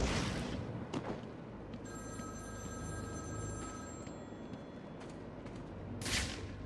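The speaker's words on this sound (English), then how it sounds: "was that something about phone ringing?" Faint electronic ringing tones from a telephone in the Batman: Arkham City video game, sounding for about two seconds over a steady low ambient rumble, with distant game noises at the start and end.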